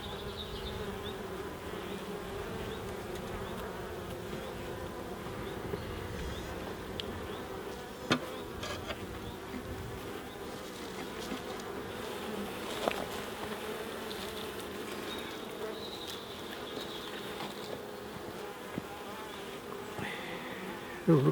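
Honey bees hum around an open hive during an inspection in the UK, a dense, steady buzz of many insects close by, with occasional faint clicks and no talking.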